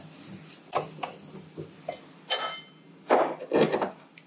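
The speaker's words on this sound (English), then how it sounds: "I want to grind up just a little bit of the calendula." Dried calendula petals being ground by hand for soap making, heard as a series of irregular knocks and crunching scrapes, close and moderately quiet with no talking.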